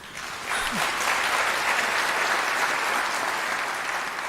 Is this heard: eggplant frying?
no